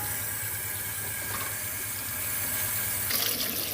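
Steady tap water pours in a sink while turkey wings are rinsed before marinating, a continuous close hiss with a brief surge toward the end.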